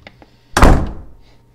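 Wardrobe or door thudding shut in the horror game Hotel Remorse, one loud heavy thump after faint light taps, decaying quickly.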